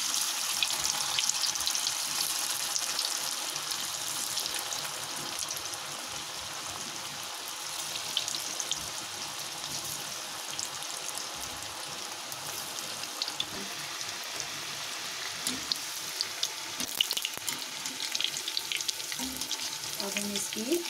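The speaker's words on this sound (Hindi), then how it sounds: "ये हमारा ऑयल गरम हो चुका है, अब हम इसमें ये फ्राई कर लेंगे।" Arbi (taro) leaf pakoras deep-frying in hot oil, a steady dense sizzle and bubbling crackle that holds close and loud throughout with no talking.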